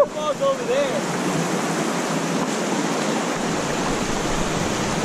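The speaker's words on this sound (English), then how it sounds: "The waterfall's over there." Broadband roar of a waterfall heard from a kayak on a fishing outing, a steady rushing wash that holds evenly throughout, with a brief voice and a whistle-like tone at the very start.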